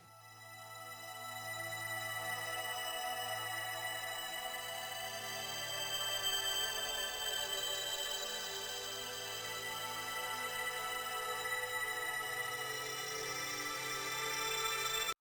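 A Clone Theory synth pad in FL Studio plays sustained chords with reverb, ping-pong delay and panning, fading in then holding a steady wash of layered tones, with a faint low pulse beneath, no voices.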